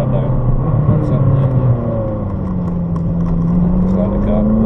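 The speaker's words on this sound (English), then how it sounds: "just keep the revs down and makes it grunt a wee bit more" A Ferrari California's engine runs on the move, a loud, steady close drone whose pitch dips and then slowly rises as revs build, with speech faintly underneath.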